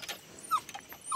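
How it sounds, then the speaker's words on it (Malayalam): A dog lets out a couple of short, faint whimpering squeals in quick succession, heard alone in a quiet room. "എന്റെ പട്ടിയുടെ ഒരു വാസുവാ"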